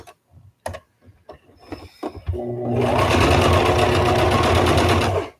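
A Brother XR3774 domestic sewing machine stitching a tie-back face mask: a few light clicks and handling taps, then a steady, loud, close run of rapid stitching for about three seconds before it stops.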